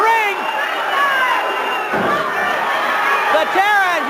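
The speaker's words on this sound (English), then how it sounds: "The crowd in an uproar as Ken Patera batters Spike Huber" An NWA St. Louis wrestling arena crowd roars loudly and continuously as Ken Patera batters Spike Huber, with whistles, shouts and cheers swelling and dipping, a brief lull near the middle, then rising again.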